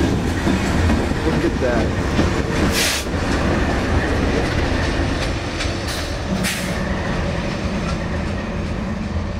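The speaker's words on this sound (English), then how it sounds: "Here's the end of our little train." A BNSF freight train rumbles past close by, steady rolling clatter of wheels on rails throughout, with a brief remark spoken over it.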